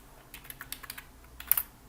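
A computer keyboard used for shortcut keys: a handful of light, quick key clicks ending in a slightly louder pair of presses, close and quiet, with no speech.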